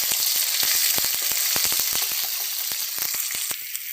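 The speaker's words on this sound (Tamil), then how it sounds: "இந்த இஞ்சி பூண்டு நல்லா வதங்கணும்" Ginger garlic paste sizzles in hot oil with curry leaves, a steady loud hiss broken by many sharp crackling pops throughout, with no talking.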